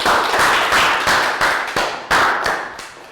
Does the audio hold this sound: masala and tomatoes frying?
no